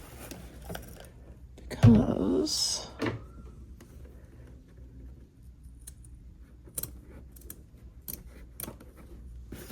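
Scissors cut through wire for a mixed media sculpture in a short, close snipping burst with a metallic rasp. Faint clicks and handling noises follow in a quiet room.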